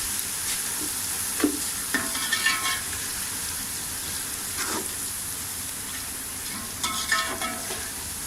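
Steady sizzling from a pan of frying garlic paste, with occasional scraping stirs of a utensil, close and continuous, no talking.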